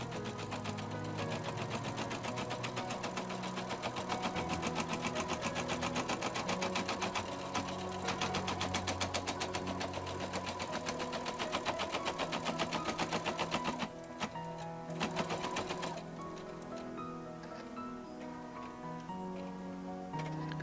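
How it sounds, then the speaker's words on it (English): An embroidery machine stitches a placement outline for a Mylar appliqué, a fast steady mechanical ticking rhythm close to the microphone, pausing briefly before resuming at a softer, slower pace. "Always the first step is the placement stitch for the Mylar. We're going to stitch that one first."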